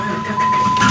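A Dodge Ram Daytona pickup truck cranks and catches, a brief, close engine start that swells from a low churn into a steady running rumble.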